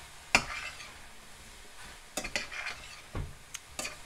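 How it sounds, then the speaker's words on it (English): A utensil stirs smoked paprika and spices together in a pan for vegan tacos, with soft scraping, light sizzling and a few sharp clinks against the pan. The sounds are quiet and irregular, with no talk. "Stir that together."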